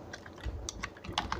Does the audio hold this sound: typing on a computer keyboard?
yes